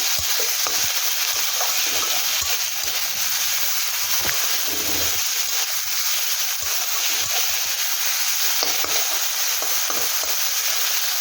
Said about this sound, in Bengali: তো শাকটা ভাজা হয়ে গেছে।